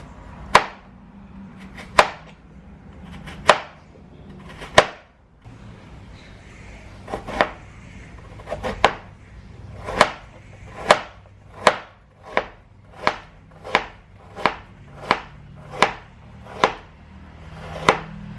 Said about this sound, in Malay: Kita akan buangkan kulit dan kita akan potong secara memanjang.